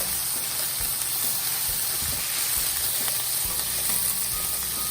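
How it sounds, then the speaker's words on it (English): Vegetables and spinach stir-fry in a hot pan for fried rice, giving a steady, close sizzle and hiss throughout, broken by occasional soft scrapes and knocks as the pan is stirred. "And I'm going to add some of our spinach. stir it up until the vegetables start to get a little bit tender."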